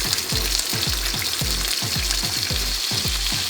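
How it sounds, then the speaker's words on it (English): Meat for birria tacos sizzles and fries steadily in a hot pan, a dense continuous crackle with regular scraping stirs underneath, close and fairly loud with no talking. "we're just gonna put the meat in so that we get that beautiful brown, crispy fragrantness coming off of it"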